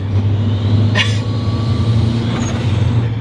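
A right-hand-drive Toyota Celica GT-Four engine hums at half throttle from inside the car, a steady low drone with a brief high whine or squeak over it, loud and close.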